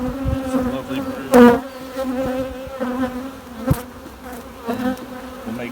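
Honeybees buzz steadily around opened beehives during a hive split, a dense droning hum with a few louder swells as bees fly close, with no talk.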